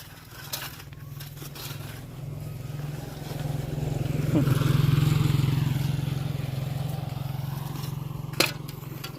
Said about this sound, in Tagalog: Ito yung tricycle.